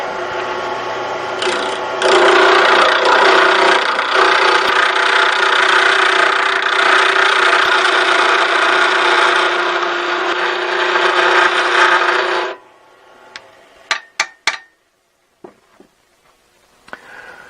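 A carbide bit cuts on its outer edge into a spinning workpiece while making a chuck removal tool on a lathe, a loud steady rasping whine lasting about twelve seconds, then stopping, followed by a few sharp clicks and knocks.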